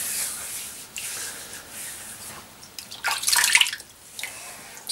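Tap water runs into a bathroom basin being topped up before a full head wet shave, a steady rushing splash that swells louder near the end, close by with no voices.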